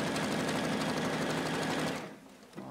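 A Juki UX8 domestic sewing machine runs a zigzag stitch in a steady, loud mechanical whir that slows and cuts out near the end, with a brief restart just after.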